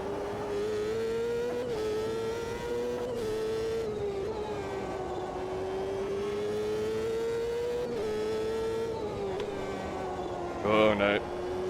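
A Reynard 98i Ford race car's engine at Watkins Glen in Automobilista 2, a steady high-pitched drone that rises and falls with throttle and gear changes, heard from inside the car under a voice talking.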